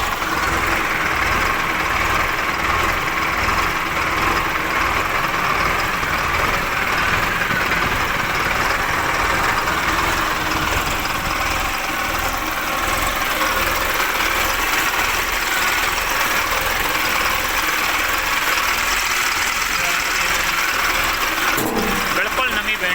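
A lightly used 2018 Mahindra Arjun 555 DI three-speed tractor idles close by, its engine holding a steady, even rumble for the whole stretch with no change in pace.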